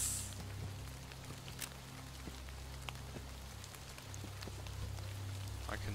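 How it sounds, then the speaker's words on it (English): Steady rain in the taiga in the video game Metro Exodus patters and drips against surfaces, with a low constant hum beneath and a few sharper droplet taps, no one speaking. "Oh, it's actually raining."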